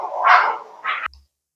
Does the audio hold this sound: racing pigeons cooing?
no